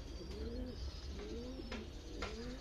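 Tournament racing pigeons kept for sale coo softly in a few low, rolling phrases, close by but quiet.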